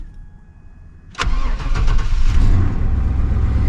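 A car engine cranks and catches after a quiet stretch with a faint whine, then settles into a loud, rough idle that continues, in a garage setting during power steering pump work.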